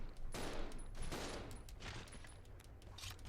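Gunfire in the Resident Evil 0 HD Remaster survival horror game comes as several quick bursts of shots clustered in the first second and a half, with fainter shots trailing after.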